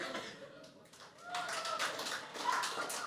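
A few scattered audience members clap at a stand-up comedy show, sparse claps rising in a thin patter under a faint room murmur.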